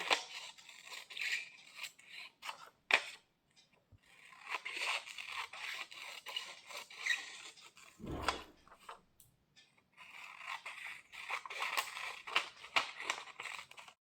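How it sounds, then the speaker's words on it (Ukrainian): Scissors snip through yellow paper as it is cut into strips, making repeated crisp cuts and rustles in close, quiet bursts with short pauses between them. "Беремо ножиці правильно."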